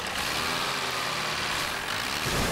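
Cartoon little red tractor engine running steadily at close range, a continuous low mechanical drone with no talk over it.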